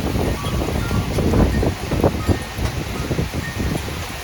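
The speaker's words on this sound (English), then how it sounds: "Got another big gust." Big gust of wind during an evening thunderstorm in Plum, Pennsylvania: loud buffeting wind noise with rushing surges and rustling over a steady rain hiss, no talk.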